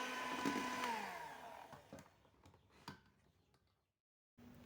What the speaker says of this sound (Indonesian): Kemudian mixer lagi dengan kecepatan yang paling rendah saja.